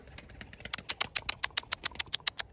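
A tumbler pigeon tires in flight while looking for somewhere to land, its wings giving a fast run of sharp, evenly spaced flaps that build and grow louder, close and clear over a quiet background.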